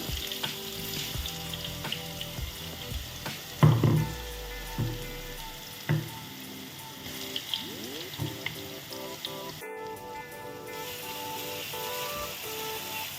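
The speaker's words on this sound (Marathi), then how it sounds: "हे थोडा जास्त वेळ थोडं फ्राय करायचं, कारण कच्चा कांदा असतो." Chopped raw onion and spices frying in a pan for a raw banana sabji: a soft, steady sizzle running throughout, broken by a few close clinks and scrapes of stirring, with no voices.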